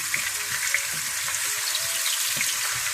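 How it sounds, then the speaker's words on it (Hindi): Finely chopped onions fry lightly in a pan for palak gosht, a close, steady soft hiss dotted with small crackles and low bubbling pops. "इसको आप हल्की फ्राई कर लें"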